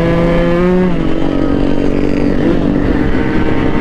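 A Suzuki Satria motorcycle engine runs loud and close while riding, a buzzing tone that rises then settles into a steady drone, with no talk over it.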